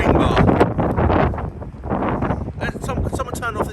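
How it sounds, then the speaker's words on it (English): Strong wind buffets the microphone in loud gusts while people talk over the roar, outdoors at a wing bar in London. "Someone turn off this wind for a second."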